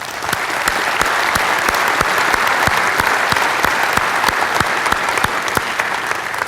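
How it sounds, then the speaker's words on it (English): An audience gives a steady round of applause, dense clapping with a few sharp, distinct claps standing out, loud and sustained throughout with no talking. "I think we ought to give you a round of applause for joining with us"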